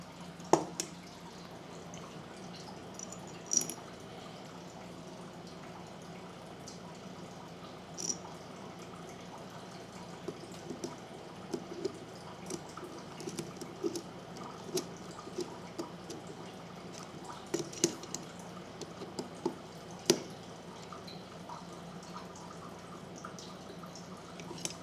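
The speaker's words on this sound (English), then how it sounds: "That's still the gas tank draining that you hear in the background." Gasoline drips from a draining generator gas tank, faint scattered plinks in a quiet room with a low steady hum underneath.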